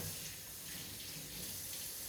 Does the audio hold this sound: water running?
yes